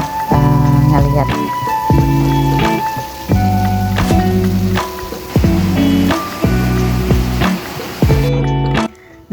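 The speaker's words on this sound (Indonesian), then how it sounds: "ternyata hujannya cukup deras" Heavy rain pouring down during an Indonesian Independence Day outing, loud dense drumming spatter with rhythmic thuds repeating throughout, close and continuous until it cuts off near the end.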